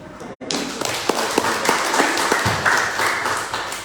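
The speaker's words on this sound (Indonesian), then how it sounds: "tepuk tangan" Audience applause in Indonesian talk, a steady wash of clapping with a few sharper individual claps standing out, fairly close and continuous after a brief dropout at the start.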